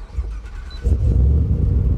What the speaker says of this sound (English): vintage push-button start,